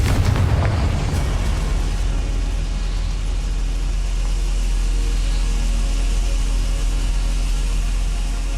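A sharp, loud burst opens with the Confringo fire spell explosion in Hogwarts Legacy, then decays into a steady roaring rumble and hiss that hangs on for the rest of the clip.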